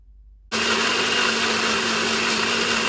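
An electric blender switches on abruptly and grinds a spice paste with water for a Goan squid curry. The motor whirs loud and steady at close range with a constant pitched hum.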